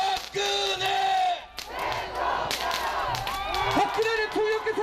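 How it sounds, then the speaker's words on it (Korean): A crowd of supporters gathered outside a hospital at midnight erupts in loud cheering and shouting, voices rising in chant-like cries that swell and fade close by. "지지자들은 환호하며 기쁨을 표현합니다"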